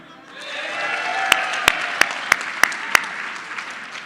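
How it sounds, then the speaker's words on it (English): Audience clapping at a regional annual awards event rises into a steady patter, with several sharp, close individual claps standing out in a regular rhythm before fading. "clap if you know Memorial"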